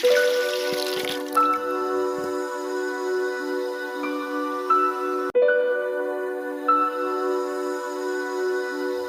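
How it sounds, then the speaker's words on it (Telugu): Water is poured into a metal pot to boil eggs over a wood-fired stove, with ringing, tonal drips and splashes and a couple of sharper knocks against the pot, close and steady throughout. "ఎగ్ అయితే బాయిల్ చేద్దామని చెప్పి ఇంకా వాటర్ పోసి పెడుతున్నాను"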